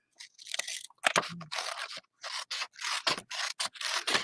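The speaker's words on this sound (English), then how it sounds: "I did find one of my pair of scissors that kind of cuts with an edge." Old, dull-bladed scissors snip through craft material in short, irregular cuts, each with a crisp crunching scrape. The cuts are close up and come in quick bursts separated by brief pauses, with no talking.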